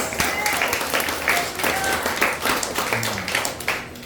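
A church audience claps steadily in a dense, sustained wave of applause, with a few voices faintly mixed in.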